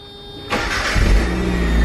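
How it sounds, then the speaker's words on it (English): A Mazda Eunos with a new starter and push-to-start button cranks briefly and fires, then settles into a loud, close, steady idle. "Check out the new push to start, plus it has the new starter."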